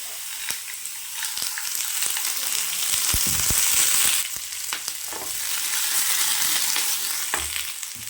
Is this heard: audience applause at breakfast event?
no